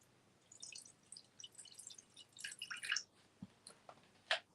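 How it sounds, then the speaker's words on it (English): Water dribbles into a bowl for soaking moss, faint scattered drips and small splashes trickling in short bursts, close and quiet with no talk. "So you start off with putting a little bit of water into the bowl."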